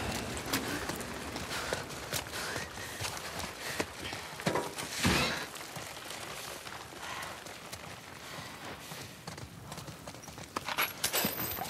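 Hooves of a horse clip-clop steadily in The Last of Us Part II, a continuous walking rhythm amid game ambience, with a brief louder burst midway and occasional faint sounds.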